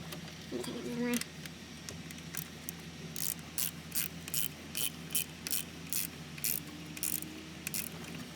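A ratchet tightening bolts on the M42 water pump of a BMW E30, a rapid clicking pawl sequence in regular bursts, close and distinct, following some brief low mechanical handling at the start.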